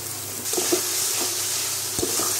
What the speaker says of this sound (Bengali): এখন মশলাটা পাকা শুরু